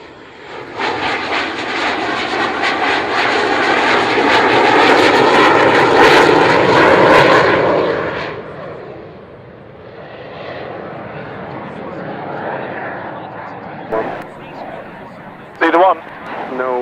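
Saab 105 jet aircraft flying at the Royal International Air Tattoo airshow, its engine roar swelling loud and close for several seconds before fading into a distant rumble, with a voice speaking over it.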